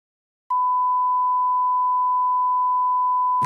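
A censor beep sounds as a single steady pure tone. It is loud and held for about three seconds, with silence before it and a brief cutoff at the end.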